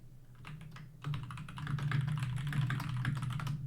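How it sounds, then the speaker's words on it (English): Computer keyboard typing: a rapid, continuous clatter of keystrokes, sparse at first, then denser and louder after the first second, close and clear with no talking. "enjoy the keyboard sounds"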